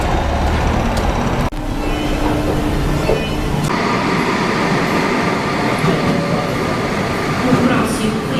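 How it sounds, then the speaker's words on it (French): A Porto metro train is ridden from inside. It gives a loud, continuous rumble with rattling and clickety-clack from the wheels and a brief jolt partway through. "Nous allons donc maintenant prendre le métro pour rejoindre l'autre rive du fleuve"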